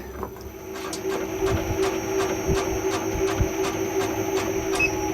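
An electric honey extractor, converted from a hand-cranked model, spins frames at 165 rpm with a steady motor hum and a regular rhythmic clacking about twice per second, loud and close, with no talk over it.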